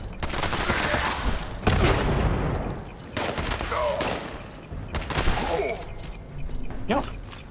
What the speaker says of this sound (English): I'll also start shooting with this gun anyway.